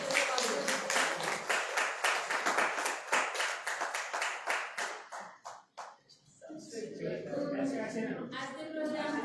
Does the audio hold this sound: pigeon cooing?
no